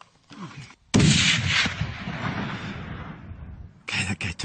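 Rifle shots fired at a bear during a hunt: a loud, close blast opens with a long rolling echo that decays over several seconds, then a second burst of sharp reports comes near the end, with a faint voice in the background.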